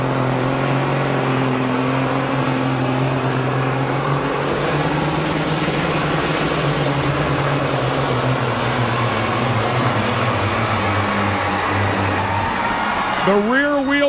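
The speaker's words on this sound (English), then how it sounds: "Once again, a KT 600 Cummins underneath the hood." Hot rod semi truck with a Cummins KT 600 engine pulling a sled at a 2007 truck pull in Salem, Indiana, a loud, sustained, droning engine roar at steady high load, easing down at the end, with a commentator talking over it.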